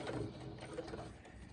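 A sewing machine runs steadily during quilt piecing, a continuous mechanical whir at moderate level with no voices.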